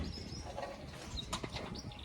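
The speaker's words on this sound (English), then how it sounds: "But she's got birds up here." Pigeons or doves at a shop that sells birds coo softly a few times against a busy outdoor street background.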